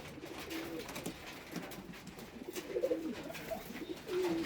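Soft, throaty cooing of King pigeons in a slow, uneven rhythm, with a few louder rolling coos toward the end; fairly quiet and close.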